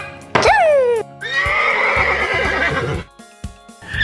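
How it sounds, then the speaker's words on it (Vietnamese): A horse gives one loud, close neigh that shrills high and falls away, then it carries on with a long rough whinny. A few soft knocks follow in a quieter tail. "Ngựa ăn cỏ, horse"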